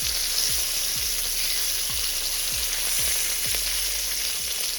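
Beef pieces sear in a hot pan for a braised Peruvian cilantro stew, a constant loud sizzle with a series of regular low thumps as the pieces are flipped.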